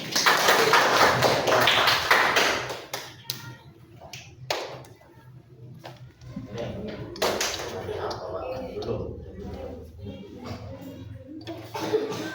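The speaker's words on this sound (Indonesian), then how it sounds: "Beri tepuk tangan untuk kelompok 1." A class claps for group 1 in a teaching practice lesson. A short, loud burst of applause fades into scattered taps and classroom noise, with faint talk.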